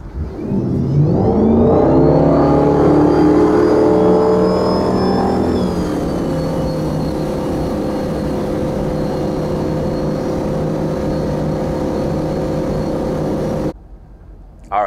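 A 2021 Moomba Mondo ski boat accelerating out of the hole to 32 mph, its engine roaring up in pitch and then settling into a loud steady drone.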